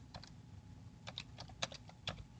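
Keys on a computer keyboard are typed in a quick irregular run of soft clicks in small bursts, close and fairly quiet, as text goes into a spreadsheet cell; there is no talk.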